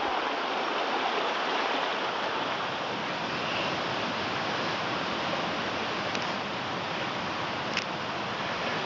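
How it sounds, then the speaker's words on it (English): Creek water flows steadily along Mill Creek near a waterfall on a forest walk, a constant broadband rushing that stays loud and even throughout with no voices. "let's go for a walk and we'll show you some of the waterfalls here"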